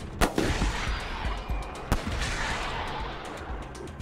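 Turn-based combat gunfire in the video game Wasteland 3 as a party shoots at an enemy: a few sharp, close shots stand out, with a steady wash of game ambience and rumble between them.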